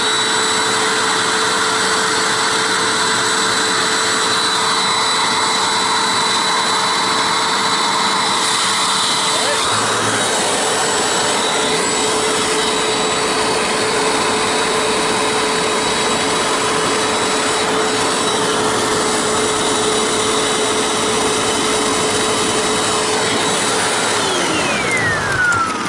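A Hoover WindTunnel U6485900 self-propelled upright vacuum cleaner runs with a steady, loud motor whine and airflow roar that holds for most of the stretch, then winds down near the end.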